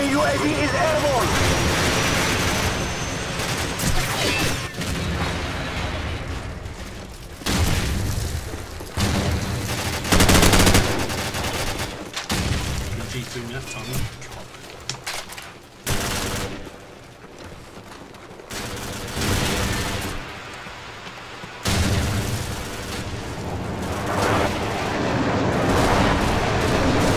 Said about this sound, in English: A lot of flashbangs going around.